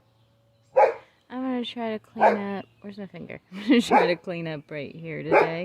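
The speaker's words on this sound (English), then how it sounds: "the dog won't stop barking" A dog barks repeatedly in short yips and whimpering bursts close by while someone talks over it, the barking interleaved with his speech.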